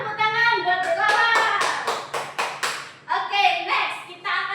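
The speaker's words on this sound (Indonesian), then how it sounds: "Tepuk tangan buat Lala." Children in a fifth-grade classroom clap together for a classmate, a short burst of rhythmic handclaps sitting between the voices of children and their teacher talking.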